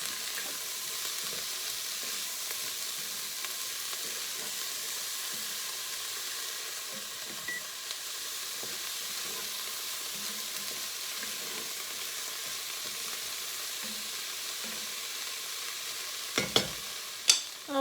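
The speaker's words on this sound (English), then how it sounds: "we're sweating the vegetables and they pretty much sweat down" Vegetables sizzle steadily in a pan for a one-pan chicken and rice dish, a constant crackling fry with faint stirring and a couple of sharp clatters near the end.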